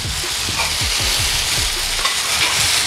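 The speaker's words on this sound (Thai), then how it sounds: "อันนี้แบบไข่ดาวเยิ้ม ๆว้าว" An egg frying in a small electric suki hot pot sizzles continuously and loudly up close, with a faint rhythmic bubbling underneath.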